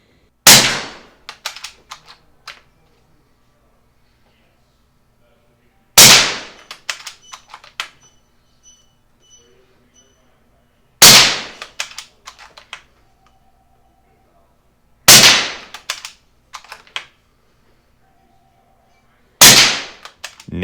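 An Umarex Gauntlet 30 air rifle fires five loud, sharp shots several seconds apart, each followed by faint metallic pings and clatter of targets being hit downrange.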